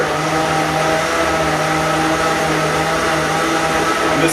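A high-end Vitamix-style blender runs steadily at its lowest speed, a constant loud whirring motor drone with a steady hum and no break across the few seconds.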